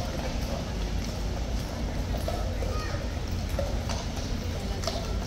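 Horse hooves clip-clop faintly beneath a steady crowd murmur and broadband outdoor noise at a guard change ceremony, the footfalls soft and distant.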